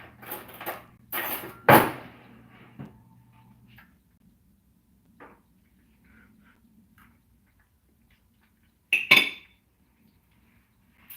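A spoon clinks against a bowl of Jamaican peanut porridge, with a few close, bright chinks near the start, a quiet stretch, then another sharp clink later. No voices.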